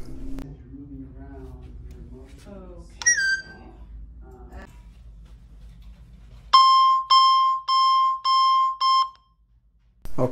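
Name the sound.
Alarm.com camera perimeter guard alarm sounds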